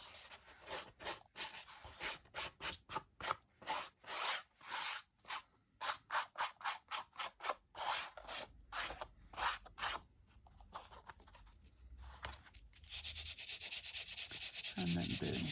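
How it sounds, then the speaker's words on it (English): A scoochie tool rubs gently over stamped paper on a journal page, a close series of soft rhythmic scraping strokes, quick and regular at first, then looser and fainter toward the end. "I'm just going to take my scoochie and rub away the excess quite gently to start with."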